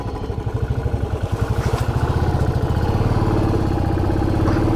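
A motorcycle stuck on a mountain road revs up close, its engine thumping in rapid, even pulses that grow louder and denser over about five seconds.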